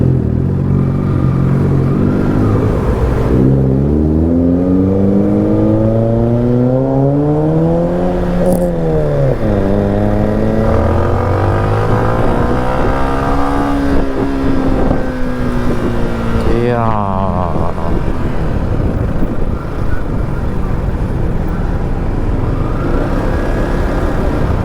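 A motorcycle engine revs loudly, its pitch climbing and falling through several throttle bursts, close by and sustained, with no clear speech.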